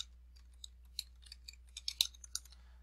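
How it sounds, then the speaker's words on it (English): Irregular light clicks of typing on a computer keyboard, close and fairly quiet, with a small flurry of keystrokes near the end and no talking. "excuse my typing."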